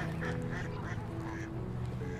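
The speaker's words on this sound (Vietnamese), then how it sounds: "đi ra ngoài Pạt để thăm mấy con vịt" Ducks at a park give scattered quacks and honking calls amid a busy, noisy outdoor background; no one speaks over them.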